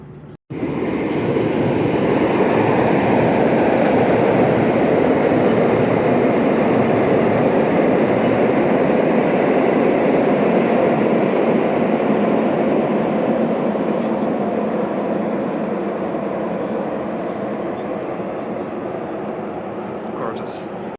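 Trains rolling past in Warsaw, a loud sustained rumble and roar that starts abruptly and holds for about twenty seconds before easing slightly.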